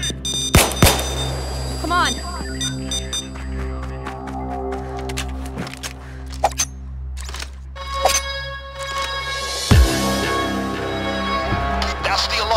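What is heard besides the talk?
bank alarm going off in Payday 2 video game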